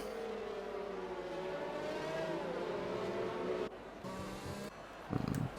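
Safety car engine in a GP2 racing video game on the Japanese Grand Prix circuit, a steady whining drone with a falling pitch sweep, then brief changes and a short revving burst near the end.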